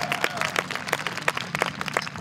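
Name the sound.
audience applause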